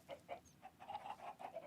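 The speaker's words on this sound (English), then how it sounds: "How can I hear so many chickens?" In Minecraft, chickens cluck in quick, soft, repeated bursts, faint and somewhat distant, a steady pecking rhythm of short notes.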